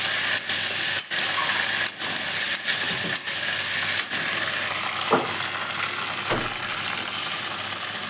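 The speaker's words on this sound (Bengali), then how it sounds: "এখন মশলা ভেজে নিচ্ছি।" Ginger, cumin, coriander and dried chilli frying in a pan for omelette and potato curry, with a steady loud sizzle and repeated scraping stirs of a spatula, close and continuous.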